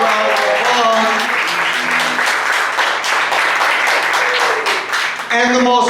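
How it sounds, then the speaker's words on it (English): A theater audience delivers a big, sustained round of applause that stays loud and steady throughout, with a voice speaking over the clapping. "the audience is giving you a big round of applause."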